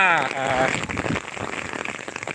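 Heavy April rain pours down in a dense, steady patter on surfaces nearby, with a voice heard briefly at the very start before the downpour fills everything.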